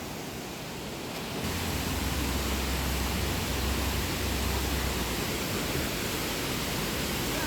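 A steady roar of rushing, falling water from a waterfall in Meghalaya fills the air after a quieter first second, constant and broadband with no pauses.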